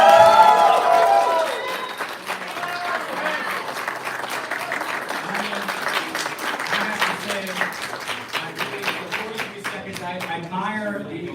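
A crowd claps and cheers steadily at the U.S. Championships of Shoe Shining as competitors work through the final minute, a dense, sustained roar with a voice rising over it near the end.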